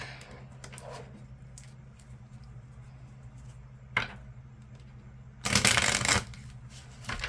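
Tarot cards are shuffled by hand, with soft riffles and taps leading to one loud, close burst of shuffling near the end, over a low steady hum with no voices.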